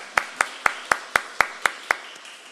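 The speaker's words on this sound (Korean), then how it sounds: "오직 주님께만 영광의 박수 올려드리십시다" A church congregation claps in unison at the close of a worship service, nine sharp, evenly spaced claps in a steady quick rhythm, fairly close and alone without talk.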